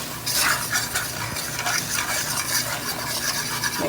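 Fork mixing fried chicken ingredients in a bowl, a steady close scraping and stirring rasp with faint clinks against the dish, continuous for a few seconds with no talk.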